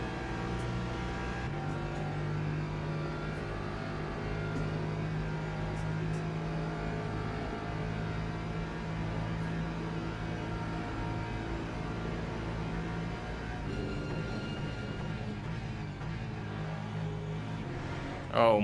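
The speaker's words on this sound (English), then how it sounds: "Cars going off everywhere" Racing game cars, a BMW among them, accelerate and rev in a continuous loud engine roar, several motors droning and whining at once with pitch rising and shifting throughout, steady and dense from start to finish.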